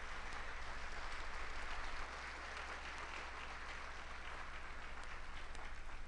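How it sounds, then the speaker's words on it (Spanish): A church congregation applauds during a Sunday service, a dense, even clapping that holds at a steady level without letting up, heard from a little distance. "Démosle ese aplauso al Señor."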